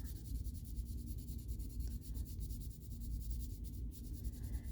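Soft scratchy rubbing of watercolor pencils on paper while coloring, quiet continuous strokes with a faint back-and-forth texture.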